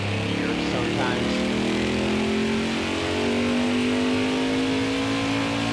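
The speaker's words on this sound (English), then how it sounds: "Always have this trouble when I'm getting the car started." A race car engine in the NASCAR Heat 5 video game roars steadily and loudly, its pitch climbing gradually as it revs and pulls away from the start.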